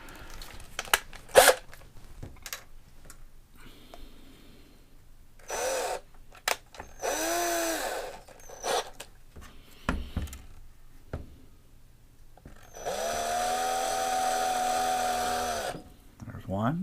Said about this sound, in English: let me get my drill out, because I know I'm going to have to drill through there